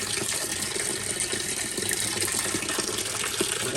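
Tap water gushes steadily into a washing machine after a slow-fill problem was fixed, a dense continuous rushing flow heard up close and alone with no talk over it.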